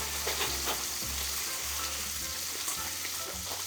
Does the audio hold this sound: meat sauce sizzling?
yes